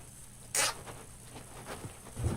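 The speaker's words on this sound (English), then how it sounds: "when we tighten this zip tie, it's going to prevent it from slipping through" A plastic zip tie is cinched tight on a ribbon, giving one sharp ratcheting zip followed by a few faint clicks and rustles close by.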